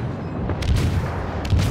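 Ship guns fire during a World of Warships naval battle, with two heavy booms about a second apart rising above a constant loud game rumble.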